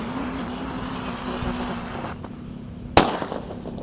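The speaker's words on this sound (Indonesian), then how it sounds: "selanjutnya di sini ada mercon Trate Tor yang warna merah" A red Trate Tor firecracker goes off with a single loud, sharp bang near the end, after a steady background hiss, at a nighttime Ramadan fireworks session.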